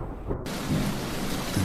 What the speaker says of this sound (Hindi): तभी बहुत जोर जोर से बादल गरजने लगे।